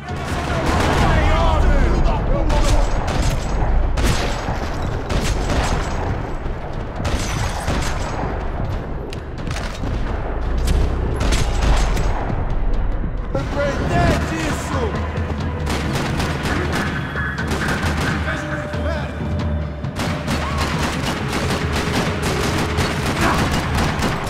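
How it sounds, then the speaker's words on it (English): Gunfire rattles through a parking lot in the Max Payne 3 video game, dense bursts of automatic shots and booming blasts that keep going with barely a pause, loud and close. "Another parking lot rattling with gunfire."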